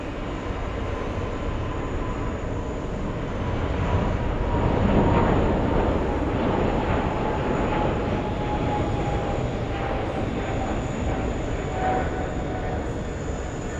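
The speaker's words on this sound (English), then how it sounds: "We have a takeoff. Qatar 704 flying to Doha." Qatar Airways flight 704, an airliner bound for Doha, taking off from runway 4 left, a broad steady engine roar that swells slightly midway and holds on, heard from a distance.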